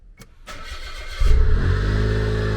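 A small engine-powered machine, unused for more than ten days, gives a couple of brief clicks and coughs, then catches and settles into a loud, steady running drone.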